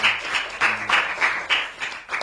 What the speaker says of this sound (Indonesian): teman-teman tepuk tangan untuk Mbak Eka.